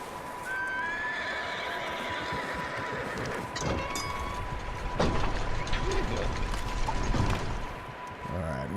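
A horse neighs in the Red Dead Redemption 2 game, a rising whinny near the start followed by clip-clop hooves and clattering mechanical knocks, fairly close, with no voices over it.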